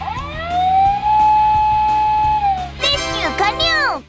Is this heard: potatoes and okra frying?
no